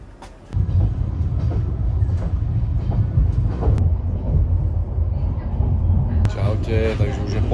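Steady low rumble and rattle inside a moving sleeper train in Vietnam, continuous and loud with faint clicks over it and a voice briefly talking.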